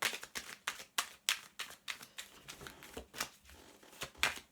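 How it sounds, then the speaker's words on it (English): Tarot cards being shuffled by hand, a steady run of crisp riffling flutters and soft slaps repeating in quick bursts, close up and alone with no talk. "as I'm shuffling these cards"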